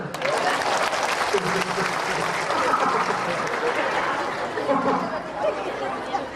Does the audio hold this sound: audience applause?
yes